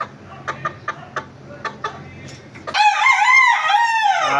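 Golden Boy Sweater, a gamecock rooster, gives several short sharp clucks, then lets out one loud, close crow that rises and trails off.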